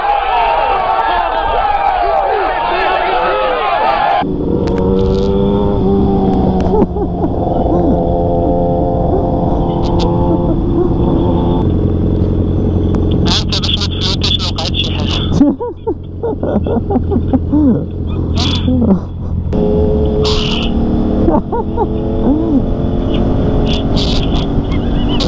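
Motorcycles rev hard and repeatedly during street wheelies in Hay Hassani, their engine notes rising and falling loudly amid a noisy crowd, with people talking and shouting throughout.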